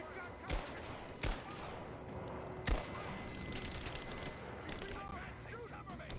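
Gunfire in Rise of the Tomb Raider: three sharp, loud shots stand out at uneven intervals over a steady murmur of battle noise and distant fire.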